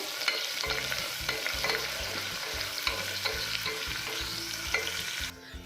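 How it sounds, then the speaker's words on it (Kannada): Two chillies fry in a pan for horse gram sambar, a steady close crackling sizzle with repeated scraping stir strokes in a regular rhythm, ending abruptly near the end. "ಇದರಲ್ಲಿ 2 ಮೆಣಸಿನ್ಕಾಯಿ ಹಾಕೊಂಡು ಫ್ರೈ ಮಾಡ್ಕೋಬೇಕು."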